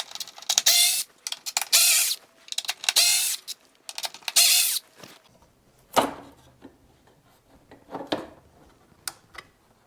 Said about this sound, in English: So let's go get these 4 screws removed.